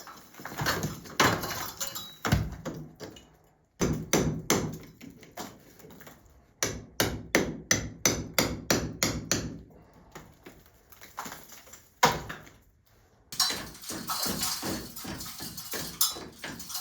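Hammer strikes knocking old cement mortar off a stone wall, sharp knocks in bursts and steady runs of evenly spaced blows, close and loud with short pauses between sets.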